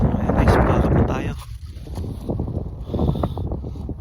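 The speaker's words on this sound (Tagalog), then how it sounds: "Malamig na, lakas ng hangin." Strong wind buffets the microphone on the frozen Red River during ice fishing, a steady low roaring gust that dips briefly and then rises again.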